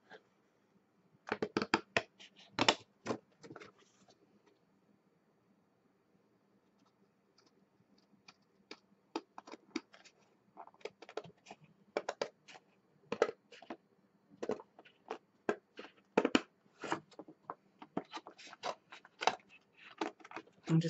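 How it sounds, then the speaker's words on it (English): Scissors snip bikini fabric in quick irregular bursts of crisp cuts, with a quiet pause partway through, close and fairly soft. "So let me turn my scissors this way."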